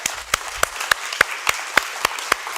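Conference audience applauding, with a soft bed of many hands under a distinct, loud nearby clapper striking in a regular rhythm, about ten sharp claps.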